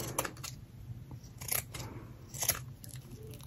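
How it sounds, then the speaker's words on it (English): Scissors cutting paper to shape junk journal flowers, several short crisp snips close by, soft and intermittent over a quiet background hum. "you come back with your scissors and you round it up a little bit"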